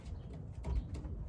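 Racing pigeons cooing at close range, soft low throaty coos repeating over a faint background hiss, with one fuller coo near the middle.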